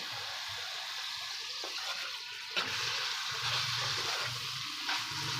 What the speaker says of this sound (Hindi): अब इसको भी अच्छे तरीके से हम 1 मिनट ये देखिए फ्राई करेंगे